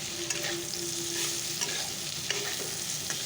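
Sliced potato and bitter gourd fry together in a pan, making a continuous low sizzle with a few light spatula scrapes and clicks.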